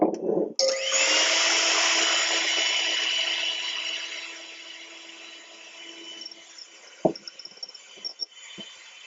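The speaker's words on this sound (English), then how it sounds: "Just going to beat these egg yolks or egg whites" An electric mixer whisks egg whites in a bowl with a loud, steady whir that fades after a few seconds and then stops, followed by a few faint knocks and taps.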